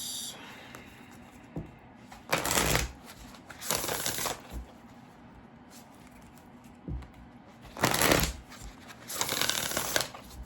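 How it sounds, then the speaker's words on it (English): An Earth and Bone Oracle card deck is shuffled in four distinct bursts of riffling cards, close and crisp, separated by quiet stretches over a low steady room hum. "going to pull an oracle card first from the Earth and Bone Oracle"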